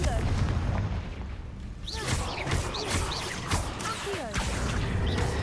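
The Confringo explosive spell in Hogwarts Legacy goes off as a string of booming blasts and whooshes over dense game noise, loud and close, with a voice speaking intermittently.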